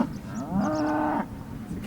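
A cow lets out a single drawn-out moo outdoors, moderately close and clear over faint background noise, with no talking.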